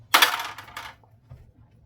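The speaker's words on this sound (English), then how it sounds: "So do you want to roll 3 dice?" Several dice for a tabletop wargame are dropped and clatter sharply onto a hard surface, with a loud initial rattle, a second burst of bounces, then a faint final tap as they settle.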